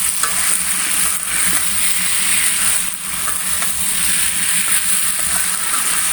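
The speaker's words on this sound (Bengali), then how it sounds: "এখন এগুলো একটু মশলার সাথে ভেজে নিব" Soybean chunks and potatoes fry with spices in a pan, giving a steady close sizzle broken by scraping stirs throughout, with no talking.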